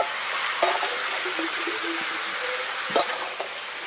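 Tangra fish being stirred with spices in a pan, a soft continuous sizzle of frying with occasional scraping strokes and a couple of sharper clinks of the spatula against the pan.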